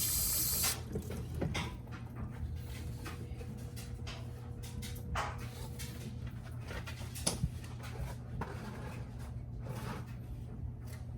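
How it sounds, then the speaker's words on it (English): Tap water running steadily while car coolant drain parts are rinsed during a coolant drain and refill on a 2015 Toyota Corolla or Camry, a continuous close splashing wash without speech. "I'm gonna go ahead and rinse this a little bit with just tap water"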